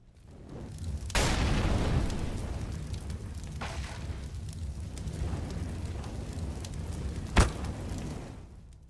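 In a competitive first-person shooter match, a molotov bursts into flame with a deep whoosh, then a sustained rumbling fire roars. Late on, a flashbang goes off with one sharp, loud crack over the burning.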